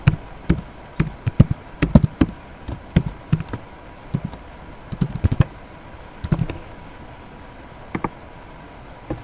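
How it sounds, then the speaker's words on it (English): Someone types on a computer keyboard at close range, a quiet irregular patter of key clicks in short bursts with pauses, fading to a few isolated taps. "I knew I didn't type it right."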